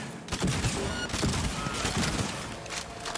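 Rapid smart-weapon fire from the Tiger Claw in Cyberpunk 2077, a steady stream of close, loud shots running through the whole stretch with no talk over it.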